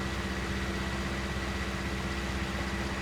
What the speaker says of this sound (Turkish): Zaten traktör şu an sesi bile değişti.